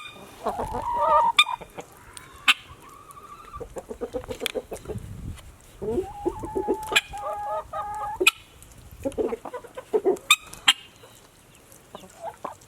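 Guinea fowl and ducks calling near at hand: loud squawks, clucks and honking calls in irregular bursts, several birds overlapping, with brief pauses between outbursts.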